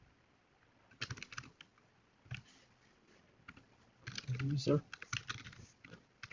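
Fingers type on a computer keyboard while a password is created, giving faint, scattered bursts of key clicks with a quicker flurry near the end and a voice speaking softly.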